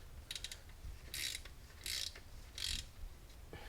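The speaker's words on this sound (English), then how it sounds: "I'm just kind of going in a crisscross pattern here, torquing down this clutch disc pressure plate" Ratchet clicking in three quick bursts while torquing the clutch pressure plate bolts on a 2014 Ford Focus ST, each short run of clicks separated by brief pauses, close and fairly quiet against a low garage hum.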